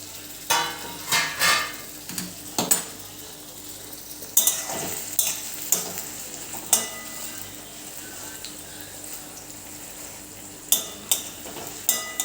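Potatoes cooking in a pan over a low gas flame, covered with a lid: a quiet sizzle runs underneath, broken by scattered metallic clinks and scrapes of a utensil and lid.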